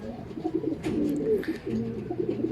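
Racing pigeon cooing in soft, repeated low burbling phrases, close and steady across the moment with faint background sounds.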